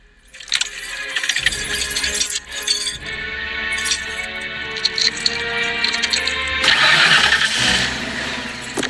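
A car engine cranks and catches after keys jangle in the ignition, the motor turning over and then running steadily up close, with a brief clink of glass and keys before it fires.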